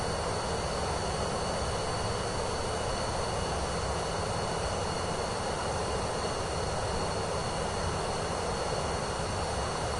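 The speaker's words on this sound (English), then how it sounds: "we're doing a PC-24 flight right now" A steady, loud jet-engine drone from a PC-24 business jet in flight in Microsoft Flight Simulator 2024, a constant broadband roar and hiss that holds without change throughout.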